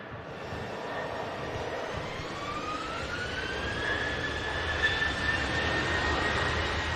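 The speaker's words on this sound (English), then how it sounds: "Two Virgin Atlantics also taxiing out." Virgin Atlantic Airbus A330 and A350 jets taxiing out at an airport, a steady broad engine roar with a rising whine, continuous and moderately loud at a distance, no talk.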